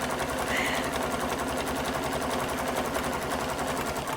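A sewing machine runs steadily through slow straight stitching, a continuous close mechanical hum with a regular fast rhythmic pulse and no pauses or talk.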